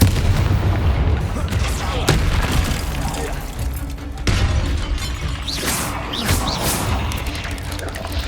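Spell-casting blasts and impacts in the Hogwarts Legacy video game, loud booming crashes over a dense rumbling game soundscape with a voice speaking.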